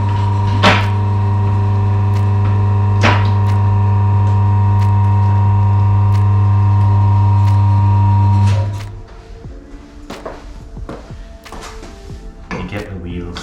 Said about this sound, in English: So what you have to first do is lift it up.